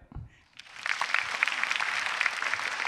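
A stand-up comedy show audience breaks into applause after a short quiet pause, a dense wash of many hands clapping that swells quickly and holds steady, sounding broad and somewhat distant.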